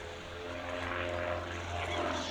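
A Mudry CAP 10 aerobatic propeller plane drones overhead during an air display, a steady buzzing engine tone that swells slightly as it passes at moderate distance.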